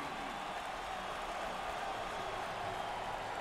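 Standing ovation from a college basketball crowd at an NCAA Tournament second-round game, a steady wash of applause and cheering that holds at an even level throughout, with no clear voices standing out.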